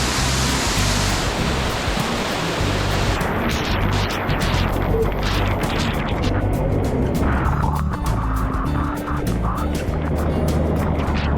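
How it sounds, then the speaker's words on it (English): Dunn's River Falls cascade rushes with a loud, constant broadband roar of falling water, close by, with heavy buffeting and splashing throughout. "We should get under the waterfall."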